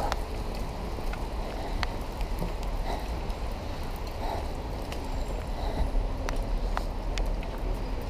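Rain falls outdoors in the city, a dense, steady patter on surfaces with scattered sharper drops and faint background rumble.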